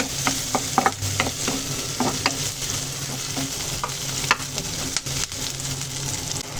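Cumin and phoron tempering sizzles steadily in hot oil for a bitter gourd curry, with a constant close frying hiss broken by scattered stirring clinks and scrapes.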